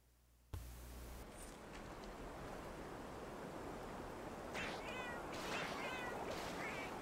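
Cats meowing in the video game Monster Hunter Generations Ultimate, several short rising mews toward the end over a constant game ambience of wash and hiss.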